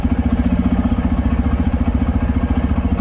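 TVS Raider 125 motorcycle engine idling nearby, a steady loud rapid thumping pulse, even and unbroken throughout.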